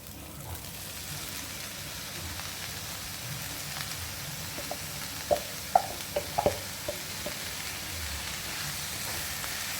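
Chopped tomatoes go into browned onions frying in a pan for a tomato kurma, giving a steady low sizzle with a few sharp spatters and stirring clicks midway; no talk.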